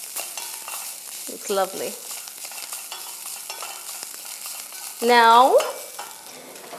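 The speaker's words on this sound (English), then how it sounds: "Let's put around 2 tablespoons of cilantro, again according to your taste, and mix it along." Spoon stirring chili filling with fresh cilantro in a frying pan, a steady sizzling scrape that runs throughout, with someone speaking briefly over it.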